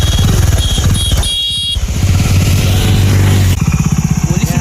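A motorcycle engine runs loud and close with a throbbing idle, a short dip in the middle, then the pulsing chug again.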